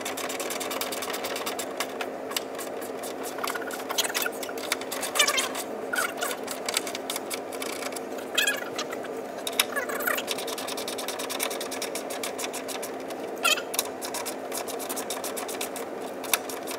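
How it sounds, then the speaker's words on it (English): A socket wrench tightening the bolts of a corner TV wall mount with tilt and swivel, a close, steady run of fine ratcheting clicks that goes on and off throughout, with scraping and handling noise. "I'm gonna use a socket wrench to tighten these down completely"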